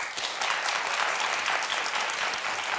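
A studio audience on a daytime talk show claps hands in a full, continuous round of applause, dense and close, with a faint crowd murmur underneath.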